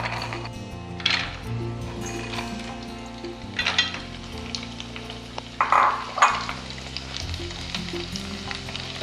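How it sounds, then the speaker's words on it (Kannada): Rice sandige fry in hot oil with a steady bubbling sizzle, punctuated by brief louder crackling bursts as the pieces are stirred. "ಬನ್ನಿ ಇದನ್ನು ಫ್ರೈ ಮಾಡಿ ನೋಡೋಣ. ಸೊ ಎಣ್ಣೆ ಚೆನ್ನಾಗಿ ಬಿಸಿಯಾಗಿದೆ."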